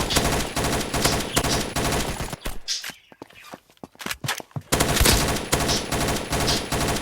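Rapid automatic gunfire in a shooter video game, loud sustained bursts that break off into scattered single shots and footsteps before a fresh long burst resumes.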